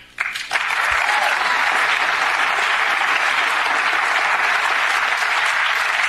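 White House staffers applauding at a meeting, a steady wash of many hands clapping that starts abruptly after a brief quiet moment and holds at an even, loud level throughout.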